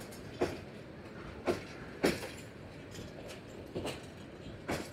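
The Upakul Express intercity train at Dhaka railway station during the crowded Eid travel rush, with faint background rumble broken by five or six sharp, evenly spaced clanks or knocks.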